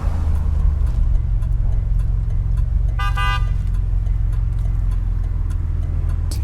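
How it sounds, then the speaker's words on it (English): A 1987 Buick Grand National's turbocharged engine idles and builds boost in a loud, steady low rumble, and a short car-horn toot sounds briefly midway through. "we're gonna build boost right now"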